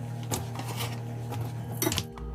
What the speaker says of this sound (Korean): 다 썰은 감자를 채망에 담겠습니다.